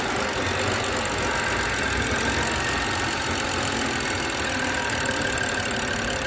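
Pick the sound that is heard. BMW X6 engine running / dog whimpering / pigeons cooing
BMW X6 engine running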